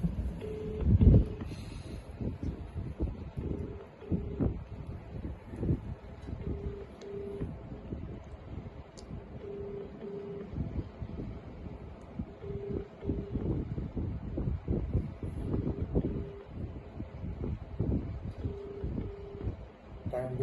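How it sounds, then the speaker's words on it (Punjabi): A phone on speakerphone gives a repeating ringback tone, short paired beeps recurring at steady intervals, faint and distant under outdoor wind noise. "ਚਲੋ ਆਪਾਂ ਹੁਣ ਕਾਲ ਕਰਦੇ ਆ ਹੁਣ ਹੈਂਡ ਫ੍ਰੀ ਤੇ ਆਪਾਂ ਕਰ ਦਿੰਨੇ ਆ"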